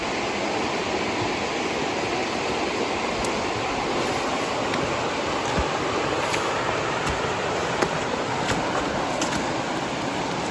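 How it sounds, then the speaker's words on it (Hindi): Steady broadband rush of the Mandakini river flowing at a ghat in the Chitrakoot forest, a continuous even wash of moving water with no pauses, heard close and alone. "माँ मंदाकिनी गंगा अपना कलकल छलछल करते हुए निकल रही हैं।"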